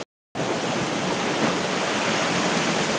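Heavy rain pours down in a dense, steady roar of broadband hiss that starts after a brief silent moment and stays loud and unbroken.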